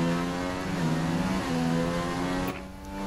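Formula 1 race cars in F1 2016 at the German round, engines holding a loud, sustained high whine that shifts pitch slightly before easing off near the end, with no talking.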